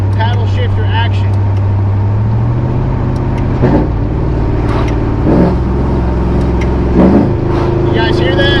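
A supercharged LT4 V8 in an old-body Chevrolet Tahoe idles and revs loudly as gears change through paddle shifters, with engine pitch stepping up and down and a voice talking over the steady drone.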